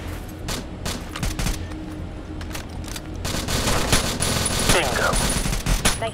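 Repeated bursts of automatic gunfire in the tactical shooter Rainbow Six: Shadow Vanguard, with rapid volleys and single sharp shots crackling loudly throughout alongside game effects.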